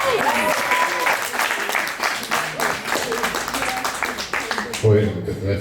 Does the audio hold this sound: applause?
yes